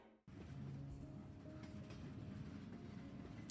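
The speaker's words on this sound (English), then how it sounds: "Okay, we've got a train." A train rumbles steadily in the Paralives video game trailer, a close, continuous rolling clatter that starts abruptly after a short silent moment.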